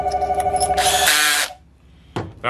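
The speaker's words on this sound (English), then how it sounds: "Then we're going to put the drill bit in." Electric drill whirring up close as it bores a hole during a 727 or 904 transmission shift kit install, a high buzzing burst that cuts off, then a brief restart.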